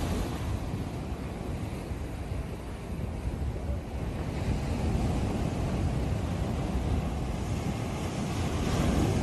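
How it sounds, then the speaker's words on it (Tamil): Steady wash of Pacific surf breaking against rocks at Thousand Steps Beach, Laguna Beach, with rushing water and wind noise buffeting the microphone throughout, no voices. "ஒவ்வொரு அலை வரும்போதும் பாறைக்கு நடுவில் தண்ணி அடிச்சுட்டு வர்றது அழகாக இருக்குது"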